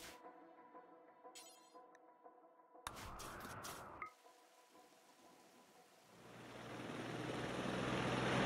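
A helicopter in the Rimworld video game thrums through several abrupt changes, from a tonal hum to a noisy burst and then a rising rotor wash that grows louder toward the end.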